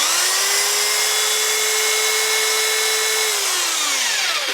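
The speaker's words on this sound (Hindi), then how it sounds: "हमने इस इन्वर्टर के साथ अपनी मकीटा की ड्रिल को अटैच किया" A Makita electric drill rated about 710 W runs steadily off a 1000W 12V-to-220V power inverter, a loud continuous whine holding one pitch for about three seconds, then winding down as the motor slows near the end.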